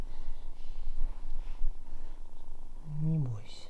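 A kitten only about six weeks old purrs steadily and close up in a continuous low rumble, someone talking softly over it throughout.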